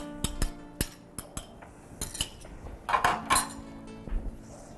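Spoon clattering and scraping inside a tagine pot while sausage and other ingredients are mixed together, a run of sharp close clinks and knocks in an irregular rhythm.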